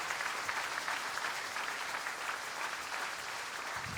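A church congregation claps steadily through a dense, even applause that fills the room and holds at a constant level from start to finish, with no voices breaking through.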